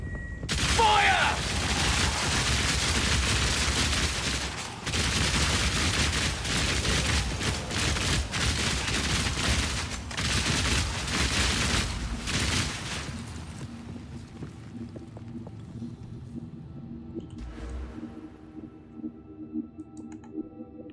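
Fully automatic crossbow in Path of Exile 2 firing as a dense, continuous barrage of rapid impacts and booms for about twelve seconds, then thinning into quieter game sounds with someone talking.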